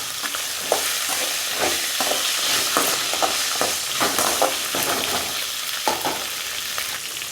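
Hyacinth beans, okra and onion sizzle in a pan for a Tamil kara kulambu as a spoon stirs them, giving repeated scraping clatters over a constant bright frying hiss, close up with no voices.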